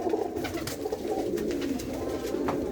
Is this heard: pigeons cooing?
yes